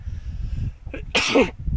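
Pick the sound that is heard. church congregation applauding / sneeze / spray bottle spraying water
sneeze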